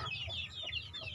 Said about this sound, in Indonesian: Ini paceknya pacek Black Bull